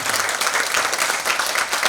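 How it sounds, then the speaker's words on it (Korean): Warm, sustained applause from a crowd at a healing concert lecture in a university library hall, dense clapping with small pulsing swells and no voices on top. "뜨거운 박수 한번 부탁드릴게요"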